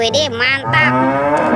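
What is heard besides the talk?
cow mooing from a toy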